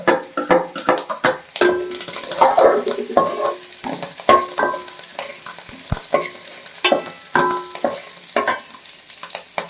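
Onions frying for mutton salna, with sharp repeated stirring scrapes and clinks of a spoon against the pan over a light sizzle, close and fairly loud throughout.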